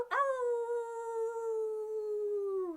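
A voice imitates a wolf howl: one long, sustained, slightly wavering howl that slides gently downward at the end, close and loud with no other sounds.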